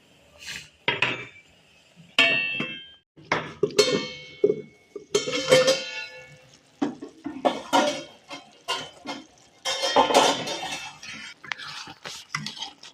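Metal pot and lid clattering and clinking during the making of a spicy home-style egg curry, a series of close, sharp knocks and scrapes in irregular bursts with short pauses between, no talking.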